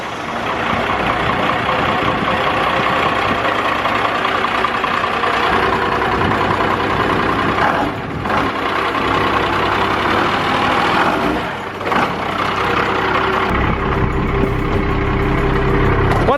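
A Cummins 12 valve diesel truck engine idling after a cold start, a loud, steady, rough rumble close by with slight knocking, briefly dipping twice before settling.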